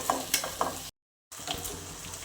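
A spicy potato curry with a little yogurt is stirred in a frying pan, giving soft scraping and sizzling close by, broken by a brief silent gap.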